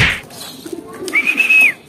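A racing pigeon lands at its loft during a race, giving a quick flutter and soft sounds followed by a short, clear whistled note; brief and close.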